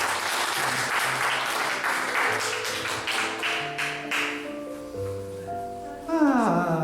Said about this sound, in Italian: Un applauso forte.